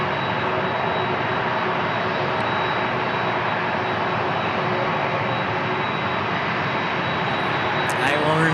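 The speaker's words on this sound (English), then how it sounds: "United taking off on an A321neo." A United Airbus A321neo takes off at San Diego International Airport with a steady broadband jet roar and a thin high engine whine throughout, while a voice talks over it.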